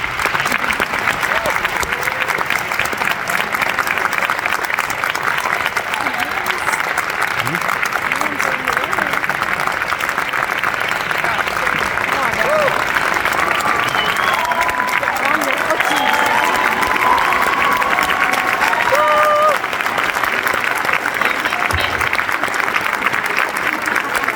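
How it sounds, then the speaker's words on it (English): Audience at a marching band director's tribute giving sustained applause with scattered cheers, a steady wash of clapping that holds at full strength for the whole stretch, crowd voices faintly underneath. "So another round of applause, please."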